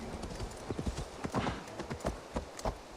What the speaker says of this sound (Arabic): عايز الحصان يعوم